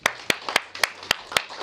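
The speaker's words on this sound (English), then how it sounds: "give them a round of applause" An audience at a personal branding speaker event claps a round of applause in a steady, sharp rhythm, six crisp beats close and loud with no talking.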